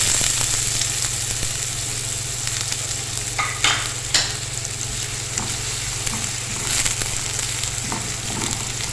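A medium onion, chopped, sautéing in about half a cup of oil, giving a steady, fairly loud sizzle with occasional spoon scrapes and brief clatters from stirring.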